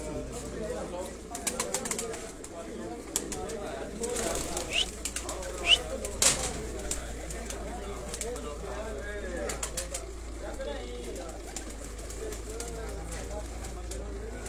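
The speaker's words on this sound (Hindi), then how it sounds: "अज मलिक साहब होरां दे कबूतर ने जेह्ड़े जी इस सीजन च उड्डे ने जी।" Racing pigeons flown this season at a loft in Sialkot coo softly and repeatedly nearby, with occasional wing flaps and clicks, as voices talk underneath.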